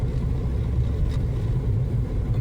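A car driving through winter blizzard conditions, a steady low engine and road rumble heard from inside the cabin, constant and fairly loud with no talking.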